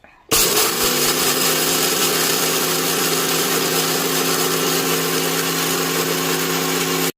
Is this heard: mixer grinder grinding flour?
yes